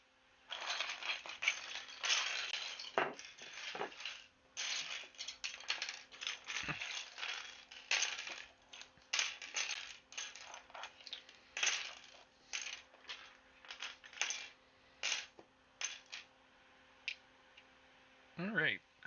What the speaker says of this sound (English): So we got all the keycaps. We can push all these to the side for now.